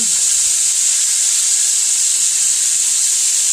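Chicken pieces fry in hot oil in a pan, giving off a steady, even hiss and sizzle that holds at a moderate level throughout, with no talking.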